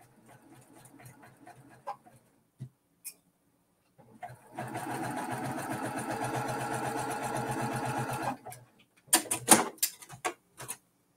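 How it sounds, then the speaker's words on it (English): A sewing machine stitches a quilt block on the bias in a steady whirring run of about four seconds, with quiet handling noises and clicks before and after. "Y'all, you're sewing on a bias."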